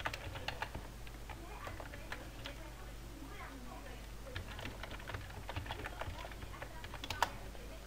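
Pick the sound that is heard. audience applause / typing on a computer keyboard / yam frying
typing on a computer keyboard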